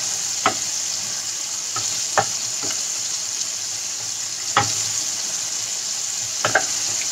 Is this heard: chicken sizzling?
yes